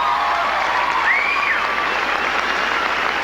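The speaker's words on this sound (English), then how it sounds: "everybody can give you a nice round of applause" Audience applauding at the 1994 Miss Kansas pageant after an award announcement, a steady wash of clapping from a large hall with a faint tonal sound briefly rising above it.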